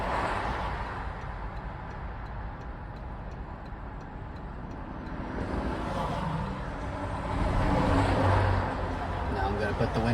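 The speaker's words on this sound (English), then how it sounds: "listen to all this car traffic outside" Car traffic passes outside, heard from inside a Toyota Corolla hatchback cabin as a muffled, steady rushing hum that swells as a group of cars goes by toward the end, with a faint ticking underneath.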